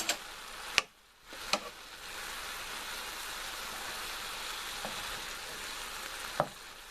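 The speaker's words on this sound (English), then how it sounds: "Give it a nice stir." Cola chicken stir fry sizzles steadily in the pan, broken by a few sharp scraping clacks as it is stirred.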